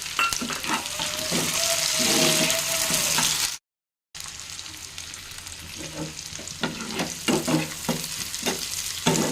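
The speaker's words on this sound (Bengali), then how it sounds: "একটু লাল করে ভেজে নিতে হবে টমেটো পেঁয়াজটাকে।" Onion, tomato and green chili fry in a pan over a lowered gas flame with a steady, loud sizzle and scraping stirs, broken by a brief silent gap, then continuing with rhythmic stirring taps.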